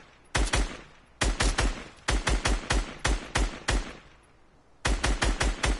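Assault rifle fire in Fortnite, loud close bursts of rapid shots in groups of three to five separated by short pauses, with no talking.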